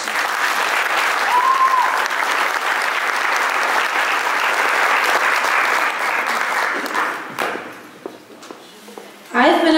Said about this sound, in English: Please join me in a round of applause as we welcome her to the stage.